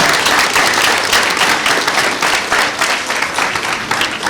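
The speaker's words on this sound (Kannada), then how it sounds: "ಸೊ ಅವ್ರಿಗೊಂದು ಜೋರಾದ ಚಪ್ಪಾಳೆ ದಯವಿಟ್ಟು ಮಕ್ಕಳ ಹತ್ರ." A school audience at a class 10 event for a Halagali Bedara dance gives loud, sustained applause to the music team, a dense wash of clapping with no break.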